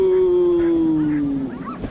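Sled dogs howl on a stopped Alaska dogsled team: one long, loud, slowly falling howl held for about a second and a half, then trailing off into fainter whimpers and yips.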